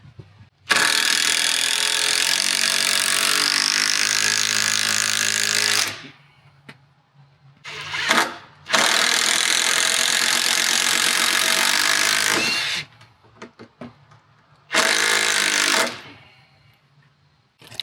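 A power drill runs in long, loud whirring bursts separated by short pauses, winding down and starting again as screws are driven into wood while building a tiny home, with occasional clicks between runs.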